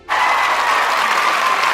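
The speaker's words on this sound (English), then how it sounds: "crowds losing their minds" An NHL hockey arena crowd erupts after a game-tying goal, the cheering and applause bursting in suddenly and staying loud and dense to the end.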